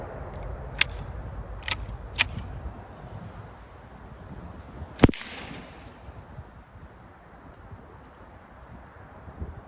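A suppressed SD9VE pistol fires subsonic rounds outdoors: four sharp, short cracks, three in quick succession and a louder one a few seconds later, each trailing off into quiet.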